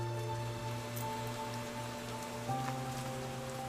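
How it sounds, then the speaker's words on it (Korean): Steady rain patters and splashes on a surface, close and continuous, with no voices. "함께 걸은 발자국 뒤로 빗방울이 튀는 소리가 들린다."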